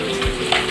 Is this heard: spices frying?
yes